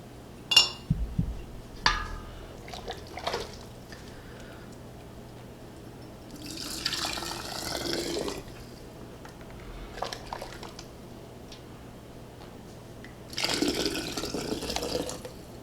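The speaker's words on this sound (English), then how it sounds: "So now I'm just going to fill up each of these quart jars" Bone broth is poured into quart canning jars, heard as several separate bursts of splashing, glugging liquid with small clinks and clatter of the jars between pours, close up in a quiet kitchen.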